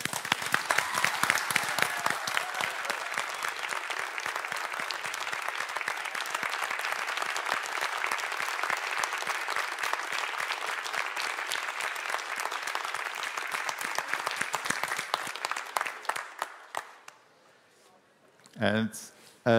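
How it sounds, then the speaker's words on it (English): An audience at an art exhibition applauds steadily for about sixteen seconds of dense, even clapping. The applause then fades out, and a brief voice follows. "Please, I ask you for applause for them."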